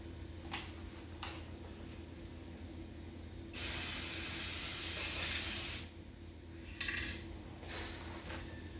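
A loud, steady aerosol activator spray hisses for about two seconds onto hydro dipping film, bracketed by shorter bursts and faint clinks, over a low background hum.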